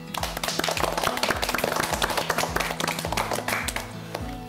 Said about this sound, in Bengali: সবার জন্য হাতে তালি